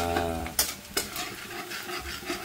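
Aromatics sizzle in a pan for beef spare ribs caldereta, with a steady frying hiss, a couple of sharp utensil scrapes and clinks, and a low hum underneath, no talking.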